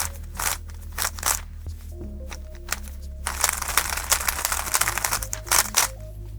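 GAN 356 Maglev speed cube puzzle being twisted, a series of quick clicky plastic turns in bursts with short pauses, then a denser run of rapid crisp turning.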